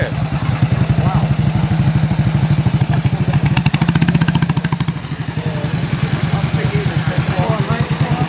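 Military motorbikes at a show idle and run close by with a rapid, clattering engine pulse, steady throughout with a brief surge in the middle, and people talk over it.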